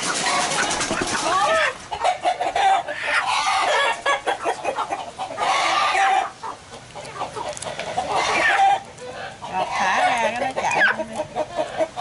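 A flock of farm chickens clucking busily at close range, with a rooster crowing among them; the squawks and cackles come in overlapping bursts throughout, loud and lively, with a few brief pauses.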